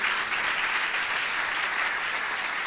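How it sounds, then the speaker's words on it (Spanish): A church congregation applauds during a Spanish-language sermon, a loud, dense wash of clapping from many people that stays steady and close for the whole stretch. "Eso merece un aplauso, esa palabra increíble, extraordinaria."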